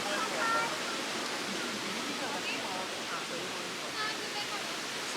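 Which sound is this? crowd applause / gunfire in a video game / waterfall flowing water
waterfall flowing water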